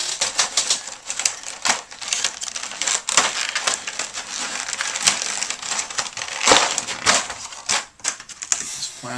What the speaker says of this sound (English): Plastic off.